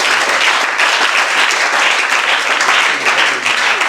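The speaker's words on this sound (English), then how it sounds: "So let's give him a round of applause again." A crowd at a high school old students homecoming applauds loudly and steadily, a thick, unbroken roar of clapping that holds the same level from start to finish.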